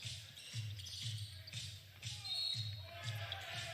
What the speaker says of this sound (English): Ball bounce.